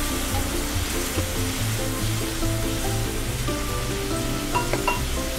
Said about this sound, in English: let's add the pan juices into the pan